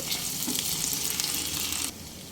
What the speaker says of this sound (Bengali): আদা রসুন পেস্ট দিয়ে আরও দুই মিনিট ভাজা ভাজা হতে দেব